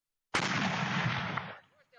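A Soviet-era Nona self-propelled 120 mm mortar fires a single round: a sudden loud, sharp blast that rumbles on for about a second before fading.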